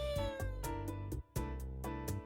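A black cat meowing in the game Dandelion, a series of rapid, close, tonal meows running almost continuously with one brief pause, loud and alone.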